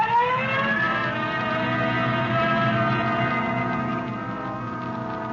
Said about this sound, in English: Code 3, red light and siren.